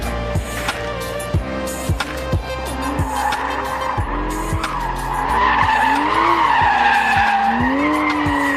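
A Porsche 911 GT3 and a Camaro Z28, both on sticky tires with carbon-ceramic brakes, brake hard in a stop from 60 mph. Loud tire squeal rises and wavers over steady road noise, with repeated sharp clicks throughout.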